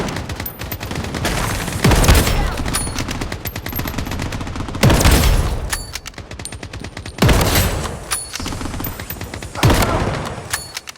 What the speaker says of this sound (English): Enemy hit! Taking fire!